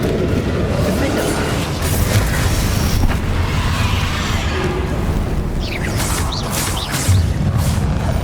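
Spell blasts from Hogwarts Legacy gameplay, Confringo fire bolts and Bombarda explosions, booming and crashing in a dense, continuous sequence with whooshes between hits, mixed with game music and a voice.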